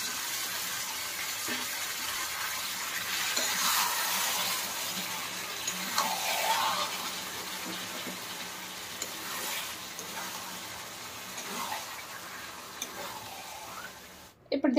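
Chicken sizzling and frying in a pan of spice masala with occasional stirring scrapes, steady and close, with a sharp clatter at the very end.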